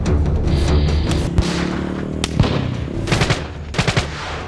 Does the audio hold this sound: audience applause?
no